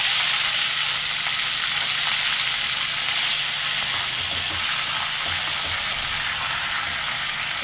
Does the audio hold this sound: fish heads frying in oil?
yes